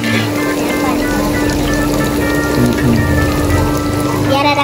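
Tempeh fries in hot oil in a home kitchen, a dense, loud, continuous crackling sizzle with steady popping throughout.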